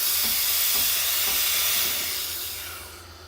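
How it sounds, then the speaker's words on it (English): Steam wand on a Breville Barista Express espresso machine being purged, a loud steady hiss of steam close by that holds for about two seconds and then fades away. "Kind of purge that steam wand."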